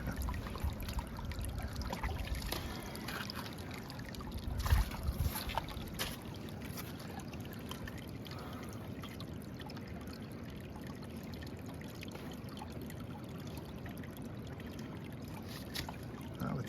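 A clear stream serving as a camp water source during a bison hunt in Alaska flows and trickles steadily, a faint continuous wash of moving water with a few small splashes.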